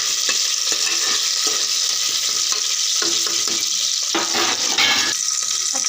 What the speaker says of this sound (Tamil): பச்சை மிளகா, நல்லா வதக்கி வச்சுக்கலாம்.